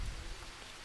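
Rain falls in the Green Hell jungle survival game, a brief, soft, steady hiss of drops with no other sounds.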